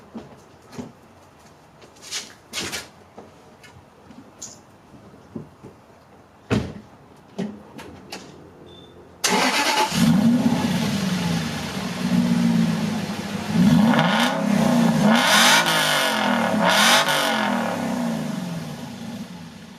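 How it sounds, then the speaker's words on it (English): Quiet clanks and knocks, then a stock Aston Martin engine fires up loudly and revs repeatedly, rising and falling in pitch, close by. "let's start this up, rev it, and show you what it sounds like stock"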